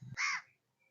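A single crow caw, loud and close, sounding alone in an outdoor setting at a Portuguese-built fort in Batticaloa, Sri Lanka.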